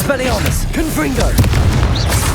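A Confringo spell explosion in Hogwarts Legacy booms out loudly amid layered game effects, with voices talking over the blasts and short bursts popping through the busy mix.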